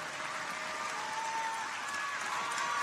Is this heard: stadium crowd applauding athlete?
yes